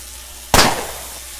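A single sharp gunshot from the turn-based video game Underrail rings out once against a quiet background hum and decays quickly.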